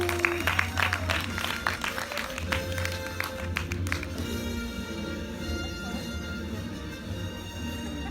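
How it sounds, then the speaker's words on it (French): A municipal-council ceremony honoring baccalaureate graduates fills with audience applause, dense clapping carrying on for several seconds alongside background crowd noise and a low hum, fairly loud and steady. "sous vos applaudissements"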